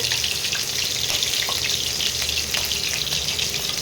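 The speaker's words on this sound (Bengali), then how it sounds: "সেই জন্য অল্প তেল গরমে আলুটা ছেড়ে দিতে হবে।" Potatoes fry in a little hot oil for a mutton curry, giving a close, steady, crackling sizzle with scattered pops and no voices.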